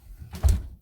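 A door opening in a house, a single short dull thud with a brief rattle, fairly close and alone in a quiet room.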